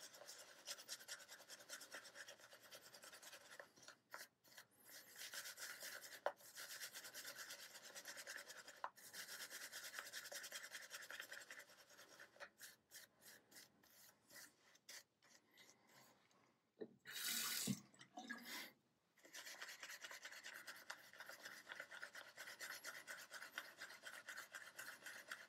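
A shaving brush swirls and agitates lather on a cake of shaving soap. The wet, rasping scrubbing stays close and continuous, with brief pauses and a short splash of added water partway through.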